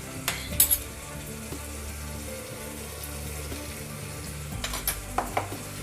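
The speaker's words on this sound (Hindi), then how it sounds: "मसालों को अच्छे से हम भून लेंगे कम फ्लेम पर।" Spices for a vegetable biryani frying on a low flame, giving a steady soft sizzle throughout, with a few louder spoon-against-pot scrapes as they are stirred.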